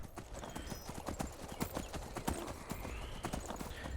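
Horse hooves clip-clopping at a steady walking rhythm while riding up a snowy mountain path in Skyrim, close and continuous over a faint wind bed, with no voices.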